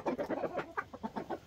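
Chickens clucking close by, a rapid series of short, uneven clucks in quick succession with no talking over them.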